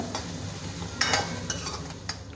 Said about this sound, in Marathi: चांगला कांदा भाजून द्यायचा लाल होईपर्यंत